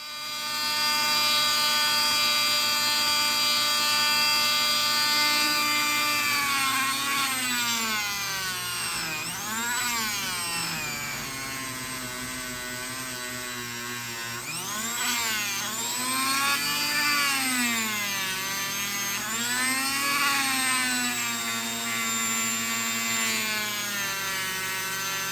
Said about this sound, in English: As you can see, the buffing wheel does a great job.